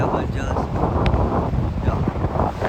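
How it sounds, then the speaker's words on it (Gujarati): Strong wind buffets the microphone on a bridge, a steady low roar that keeps up throughout with no other clear sound. "જો પવન આવતો હોય છે"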